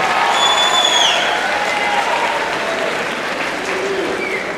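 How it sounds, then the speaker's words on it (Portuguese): Applause from the floor of a formal solemn session in the Chamber of Deputies plenary, honouring a Libertadores champion; sustained crowd clapping that slowly eases, with faint whistles and murmurs. "Palmas então para o nosso campeão da Libertadores aí."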